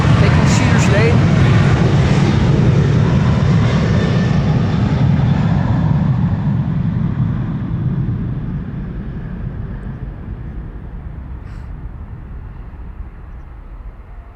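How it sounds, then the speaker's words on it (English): A KLM jet airliner, registration PH-BXW and 17 years old, leaves Amsterdam Schiphol on flight 1219 to Stockholm, a heavy low engine rumble that starts loud and steadily fades into the distance. "So this was KLM flight 1219 to Stockholm, the PHBXW, 17 years old, first flight December 2007."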